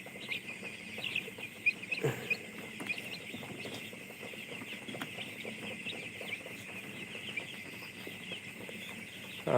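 Chickens cluck steadily in a busy coop as a hen with paralysed, failing legs eats, with soft pecking and scratching sounds and a constant background din throughout.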